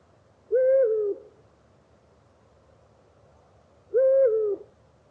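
Eurasian eagle-owl giving two deep, clear hoots spaced a few seconds apart, each a single sustained call over faint background hiss.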